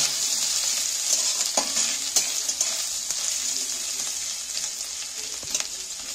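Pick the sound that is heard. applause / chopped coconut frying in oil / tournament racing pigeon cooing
chopped coconut frying in oil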